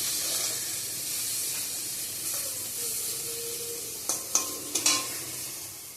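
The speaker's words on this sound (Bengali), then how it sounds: "এদিকে বেগুন ভাজাটা করছি মেয়ের জন্য" Brinjal (eggplant) fries in a pan with a steady hiss and sizzle, close and even, broken near the end by a few sharp clinks of a utensil against the pan.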